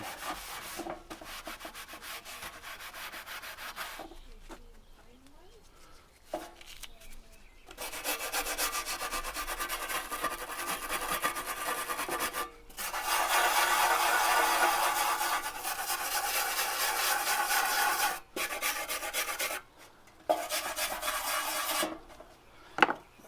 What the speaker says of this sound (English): What I want to do is get this rust cleaned off so that I can paint over the top of that.